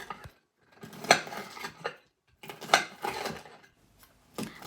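Cutlery scraping and clinking on a plate while fried chicken is cut, three separate bursts of close metallic scraping with brief silent pauses between them.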